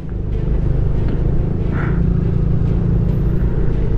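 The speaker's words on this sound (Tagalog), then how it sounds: "Oh, traffic na rito sa Kaybiang." Steady low rumble of car engines in road traffic near Kaybiang Tunnel in Ternate, heard close from inside or beside a vehicle, with a constant drone and a faint passing swell.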